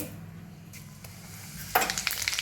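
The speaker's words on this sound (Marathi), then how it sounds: "आपलं तेल गरम झालेलं आहे त्यामध्ये टाकूया एक चमचा जिरे" Cumin seeds dropped into hot oil, starting as a quiet background hum, then bursting into a sharp, crackling sizzle about halfway through that stays close and fairly loud.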